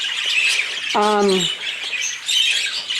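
One of a breeding pair of caged birds gives a single harsh, close squawk lasting about half a second, set against a low background of room noise and faint chatter.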